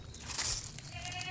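A goat bleats close by, a short wavering cry rising over low background noise.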